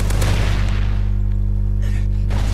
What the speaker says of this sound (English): Not going to be able to survive that explosion, though.